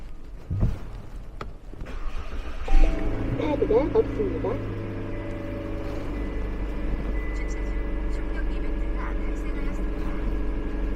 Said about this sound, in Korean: 새 차라서 그런지 시동 소리도 아주 기가 막힙니다.